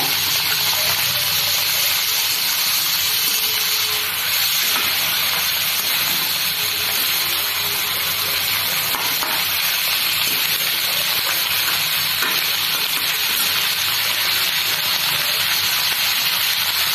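Green chillies sizzle in hot oil: a loud, continuous hiss that holds steady throughout, with no talking.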